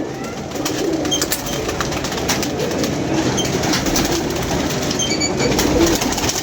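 Pigeons coo softly and repeatedly against a busy outdoor background with broadband noise and occasional clatter; no voices.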